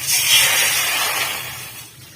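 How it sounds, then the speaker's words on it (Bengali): Water pours into a wok as a continuous, fairly loud rushing splash that tapers off toward the end, heard alone without talk. "তো প্রথমেই কড়াইতে জল দিয়ে নেব।"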